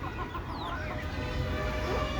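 Domestic deshi chickens kept on a six-storey building rooftop, clucking faintly over a dense steady background noise, with a few thin calls rising through it.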